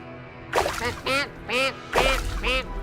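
Cartoon ducks quack in five loud, nasal bursts at an uneven rhythm on a duck farm kept in a kitchen, in a fox cartoon.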